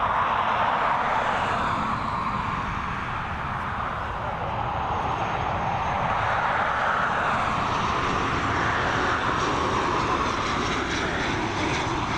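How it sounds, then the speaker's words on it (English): An ATR 72-600 turboprop airliner lands at Dublin Airport, its engine drone loud and steady throughout, swelling slightly as it passes at a moderate distance. "Really unique landing style for commercial aircraft, the ATR 72-600s."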